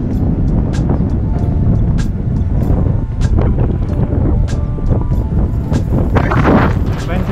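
Strong wind blowing outdoors by a lake while cycling, a loud constant roar and buffeting against the microphone with gusty swells throughout, with a voice briefly speaking over it.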